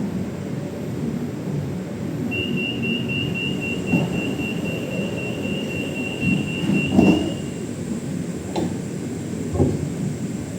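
A Bangkok Pink Line monorail train rumbles at a platform with a low steady drone, a thin high whine, and a few soft clunks and thumps.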